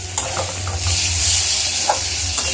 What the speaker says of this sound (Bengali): আলুটা এর মধ্যে মিশিয়ে দিয়েছি আলুটা দিয়েও একটু ভাজা ভাজা করে নিয়ে মশলাটা কষিয়ে নিয়ে